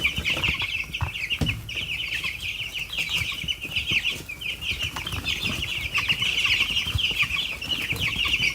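Chickens cluck and squawk steadily while being fed wet food, with a constant high chirping from the flock and occasional wing flaps close by.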